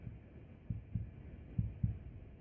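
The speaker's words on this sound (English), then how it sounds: "I heard my heartbeat." A heartbeat sound effect, a steady series of deep, muffled low thumps arriving in lub-dub pairs over a faint hum, close and fairly soft, with no voices.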